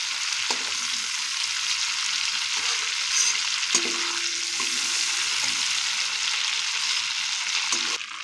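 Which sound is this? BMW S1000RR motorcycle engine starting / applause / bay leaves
bay leaves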